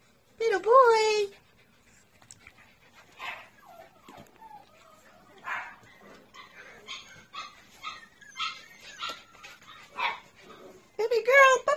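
Young puppies whimper, yip and bark in short high cries at the start and end, with softer whines and rustling between, while someone speaks warmly to them and their mother dog.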